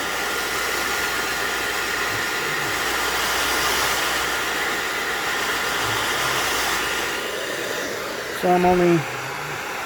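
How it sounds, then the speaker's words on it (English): A hair dryer on high blows steadily while warming a plastic side panel decal on a Triumph Bobber motorcycle, a loud continuous whooshing roar with a brief spoken phrase near the end. "as long as you have a hairdryer, and you're going to go ahead and heat it up, warm up the plastic, warm up the decal"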